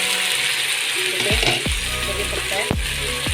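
Chicken keema masala sizzling loudly in a pan as the lid is lifted, a steady close frying hiss with a few sharp clanks of the lid and utensil, no talking.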